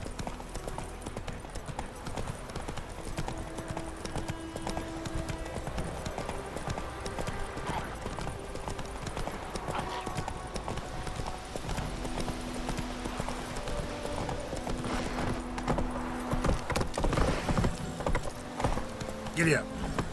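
Horse hooves clip-clop in a steady walking rhythm across a Witcher 3 game scene, moderately close, with voices talking over them throughout and a brief whinny-like cue near the end.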